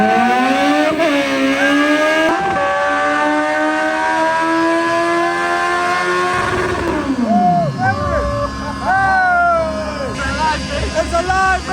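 A Kawasaki motorcycle engine revving hard, pitch climbing in repeated sweeps then dropping sharply before more quick blips, loud and close, with people talking and shouting alongside.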